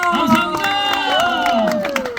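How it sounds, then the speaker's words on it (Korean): Cheers and applause from an outdoor audience at a Korean traditional performance at a cultural theme park. Loud voices with sustained tonal calls and shouts ride over scattered clapping, close and lively. "박수 한번 주시오"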